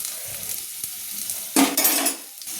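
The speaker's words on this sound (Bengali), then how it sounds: "একটু ভেজে নিচ্ছি গোটা শুকনো লঙ্কা এবং রসুন" Three whole dried red chillies and ten to twelve garlic cloves fry in hot oil for a Bengali fish-and-cabbage vorta. A soft, steady sizzle runs throughout, broken midway by a louder burst of stirring and utensil scraping, with no voices.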